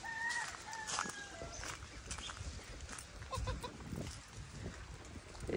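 Desi chickens on a farm cluck in a steady, busy chorus close by, with a rooster crowing in brief bursts. Other farm animal calls mix in at a moderate level, with no talking.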